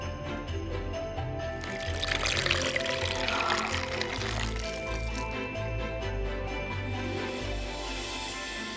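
Water is poured to make instant snow, a steady splashing pour near at hand with faint tinkling, swelling in the middle and then tapering off, with no voices heard.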